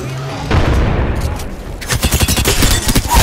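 Rapid bursts of gunfire from a battle-royale shooter video game, a dense fusillade of overlapping shots that grows louder and more rhythmic in the second half, with some voice chatter mixed underneath.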